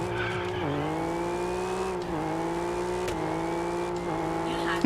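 A Ford F-150 with a very short gearbox accelerates hard in Test Drive Unlimited Solar Crown, engine whining up through rapid quick gear changes, loud and steady with faint tire noise.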